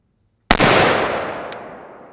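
A single sharp crack from a GDM556k rifle fired without a suppressor, loud and close, followed by a long decaying echo and a faint second tick.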